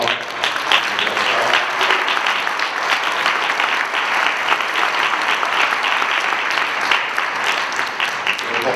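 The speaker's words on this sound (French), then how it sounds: "Je voudrais, s'il vous plaît, qu'on applaudisse Pierre" An audience applauds at a left-wing NUPES political meeting on pensions. Dense, loud, sustained clapping fills the hall without pause for the whole stretch.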